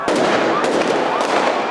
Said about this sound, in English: as fireworks were hurled at police